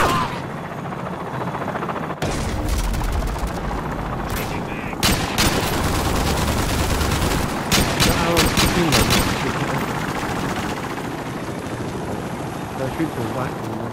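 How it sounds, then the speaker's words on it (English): Machine gun bursts from an enemy bunker in a video game crackle amid a steady, roaring helicopter-like drone and other scattered gunfire, loud throughout. "Machine gun in their bunker."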